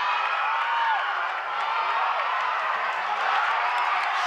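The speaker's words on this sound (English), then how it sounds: "The crowd awakened by that slam dunk." A high school basketball gym crowd roaring after a slam dunk, a broad sustained cheer with whoops, while a commentator talks over it.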